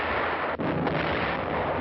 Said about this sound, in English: Our own artillery was brought to fall within 100 yards of our front line elements.